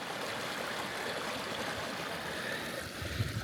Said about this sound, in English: There's water flowing down in this empty part of the lake.